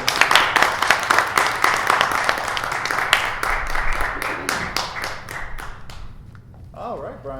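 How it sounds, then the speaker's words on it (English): An improv show audience breaks into a round of applause, loud and close, with sharp claps that thin out and fade toward the end, when a voice starts speaking. "Teeth, give him a round of applause."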